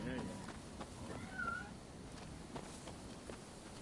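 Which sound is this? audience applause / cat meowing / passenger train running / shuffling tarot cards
cat meowing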